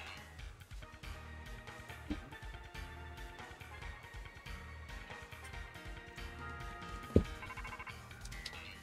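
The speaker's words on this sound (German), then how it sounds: "Telefon." A phone rings inside the video game Pokémon Purple, a quiet, steady electronic ringtone melody repeating over several seconds with no voices over it.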